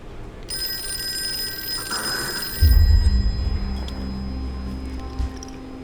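A telephone rings in the survival horror game Call of Cthulhu on PC, a bright electronic trill repeating for a couple of seconds before dull thuds and low rumbling take over.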